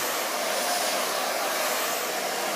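A hair dryer blows steadily and loudly while hair is dried from the roots at the parting, a constant airy roar with no talking.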